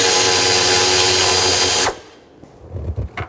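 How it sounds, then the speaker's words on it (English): Power tool spinning off a 10 millimeter nut holding a harness bracket on a 2007-2014 Chevrolet Silverado 2500 HD during fuel injector replacement, a loud steady high whine that stops abruptly, followed by faint clicks and handling noises. "let's remove this 10 millimeter nut that holds the bracket for this main harness on"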